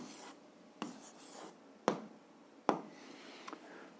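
A pen writes an answer on paper with a faint, soft scratching that comes in short strokes, punctuated by a few sharp taps of the tip against the page, close by and quiet.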